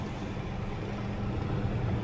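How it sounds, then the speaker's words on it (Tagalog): A steady low rumble of street traffic beside a full parking area, with trucks, buses and cars passing in a continuous wash of engine noise that swells slightly toward the end, no voices. "Traffic."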